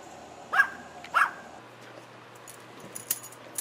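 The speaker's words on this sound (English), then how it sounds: "there's a noisy doggy. Yorkie." A small Yorkshire Terrier gives two sharp, high yappy barks about half a second apart, fairly distant, followed by faint outdoor background noise.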